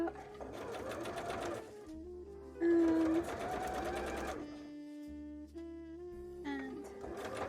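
A sewing machine stitches fabric for a Garbodor-themed bra in several loud, steady mechanical bursts separated by short pauses, with background music playing underneath.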